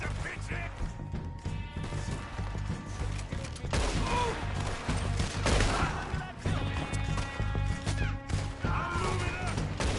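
A chaotic gunfight against the O'Driscolls in Red Dead Redemption II, with shots, crashes and impacts under a busy, layered game soundscape and faint voices in the mix.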